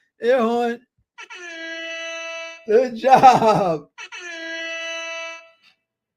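A voice imitates an air horn, making several long sustained blaring honks, with short bits of speech in between.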